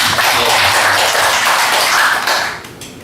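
Church congregation clapping together in a steady, dense burst of applause that stays loud throughout, then tapers off near the end.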